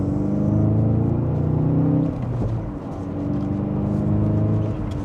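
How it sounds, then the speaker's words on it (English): A 2024 Volkswagen Golf GTI accelerating in sport mode in second gear, heard from inside as a steady, fairly quiet engine drone whose pitch rises, dips briefly at a shift, then climbs again. "we can put it back into the sport mode and get a little bit more response out of that throttle"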